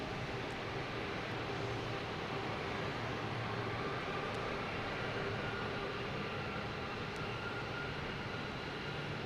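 Air Canada airliner in from Toronto taxis at Boston Logan Airport, a steady, broad engine rumble and whine held at even loudness from a moderate distance throughout, with no talking.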